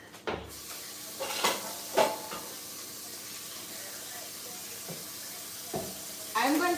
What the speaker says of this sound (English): let's get this pan washed